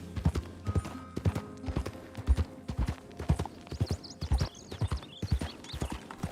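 Horse hooves clip-clop in a steady walking rhythm in Red Dead Redemption 2, close and fairly loud, with a few faint high bird-like chirps in the background and no talking.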